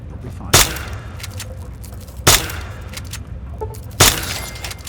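A BB gun fires three sharp, snappy shots at a radroach in Fallout 3, spaced a couple of seconds apart, each a crisp close crack with a short tail over quiet game ambience.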